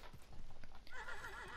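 Horse in the video game Realm Royale, hooves clip-clopping at a steady gallop with a neigh and whinny rising over them, close and fairly loud, under game sound with no talk.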